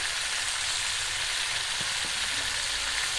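Turmeric powder and ginger-cumin paste fry with cauliflower and paneer in a village-style pan, giving a soft, even sizzle throughout with a couple of faint stirring knocks, no talking.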